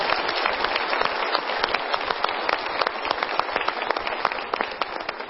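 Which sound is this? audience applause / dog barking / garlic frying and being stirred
audience applause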